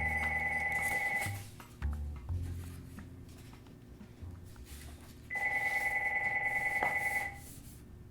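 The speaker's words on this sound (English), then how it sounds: "When you talk to Marshall Rauch, you end up getting pretty good at ignoring the sound of a ringing phone" A telephone bell rings in two loud, steady trilling bursts, separated by a few seconds of quieter room sound with some handling noise.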